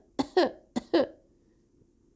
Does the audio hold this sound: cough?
yes